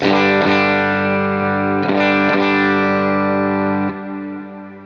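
A distorted electric guitar through compressor and drive pedals rings out sustained chords with a few re-struck strums, thick and compressed, fading slightly as the last chord decays.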